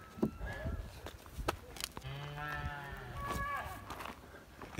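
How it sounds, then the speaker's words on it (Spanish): Cows on a rural property moo in long, drawn-out calls at mid-distance, with several overlapping bellows mixed with scattered knocks and thumps nearby. "Estoy lleno de vaca en el terreno."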